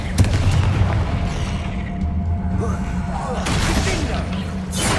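Confringo fire spell exploding in Hogwarts Legacy, a booming blast with rumbling debris and crackle over continuous game music and ambience, loud and close, with a second surge of noise near the end.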